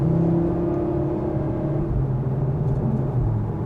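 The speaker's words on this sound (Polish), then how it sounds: "Tak jak teraz, przyspieszmy do 100 na godzinę." Cupra Formentor VZ5 with its 2.5 TFSI five-cylinder engine, 390 hp, accelerating hard toward 100 km/h: a steady, loud engine drone and rumble from inside the car, with no voices over it.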